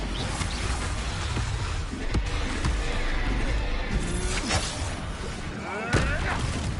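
Expulso explosion spell cast in the video game Hogwarts Legacy, with booming blasts and crashing impacts layered over game music and effects, loud throughout, and a sharp burst near the end.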